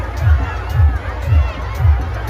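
A dense crowd at a Chhath Puja fair fills the air with steady babble and chatter, with a low rhythmic thumping recurring roughly every half second beneath the noise.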